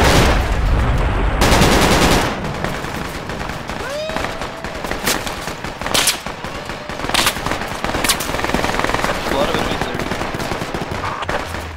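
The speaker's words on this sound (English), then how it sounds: "That's the American style of shooting." Automatic gunfire in the military shooter Project Reality, at the Battle of Ia Drang: a dense opening burst of rifle fire followed by scattered sharp shots and short bursts at mid distance, with other battlefield noise between.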